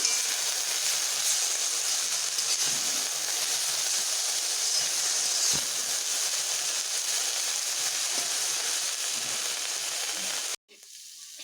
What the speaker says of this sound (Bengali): শাকটিকে আমি এইভাবে ভালোভাবে ভেজে নিচ্ছি